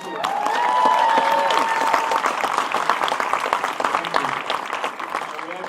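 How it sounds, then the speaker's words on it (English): An audience at a film Q&A in Dallas claps in a sustained round of applause, dense and fairly loud, gradually thinning toward the end with a few voices mixed in. "round of applause from the cops"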